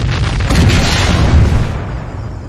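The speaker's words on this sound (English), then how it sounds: "One blossomed into a radiant fireball" An X-Wing starfighter blows apart into a fireball during a space battle over a shipyard, a loud, sustained rumbling boom that swells and then settles into a dull roar.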